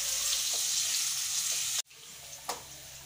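Whole potatoes frying in hot oil with garam masala, a steady close sizzle with a sharp clatter of stirring midway and a brief scrape afterward.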